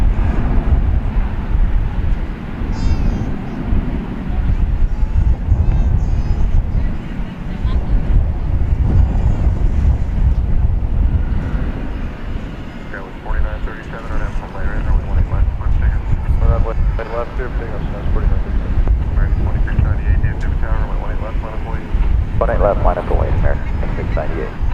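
United airplane taking off from DFW airport at night, a long loud broadband engine roar over heavy wind buffeting the microphone, sustained throughout, with voices talking over it.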